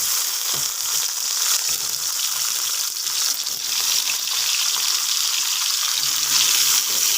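Eggplant stir-frying in a pan for a Bengali shukto sizzles steadily and loudly throughout, with faint scraping of a spatula as the pieces are turned, and no talking.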